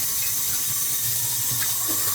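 Cold water runs steadily from a tap as a hiss-like rush, used to cool the engine temperature sensor of a Harley twin cam. The flow is close and continuous with no talking.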